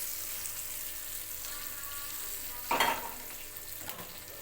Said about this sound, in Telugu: ఆయిల్ అంతా ఈ టమాటా చట్నీలో కలిసేటట్టు బాగా కలుపుకోవాలి